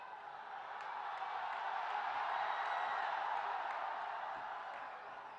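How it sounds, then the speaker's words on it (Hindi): Broad wash of crowd applause and cheering at an outdoor political rally welcoming Chirag Paswan in Hajipur, Bihar, swelling steadily and holding at full strength before easing slightly, with no voices standing out. "जोरदार ताली से चिराग पासवान जी का स्वागत करिए।"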